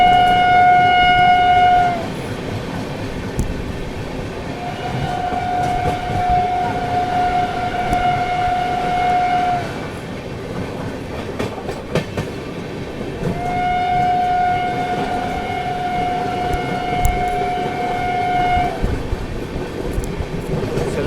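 The Ajmer Puri Superfast Express passes on the line, heard from a moving train with a steady, loud rumble of wheels and repeated long, droning horn blasts, three in all, separated by gaps of rolling noise.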